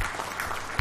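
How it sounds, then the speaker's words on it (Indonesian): Audience applause at a public lecture in a packed hall, a short burst of steady clapping that swells louder at the very end. "Tepuk tangan untuk Sugeng Saryadi sedikit."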